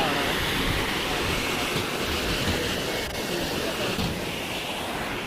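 A mountain waterfall on the trek to Hemkund Sahib roars as a steady, dense rush of water, continuous and fairly close throughout with no clear breaks.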